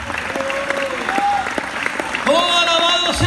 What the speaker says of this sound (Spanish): esas palmas son para mi rey